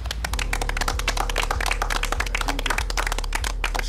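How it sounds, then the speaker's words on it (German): A crowd clapping steadily and densely throughout, sustained applause with a low rhythmic beat running underneath. "dafür erstmal ein Applaus an euch"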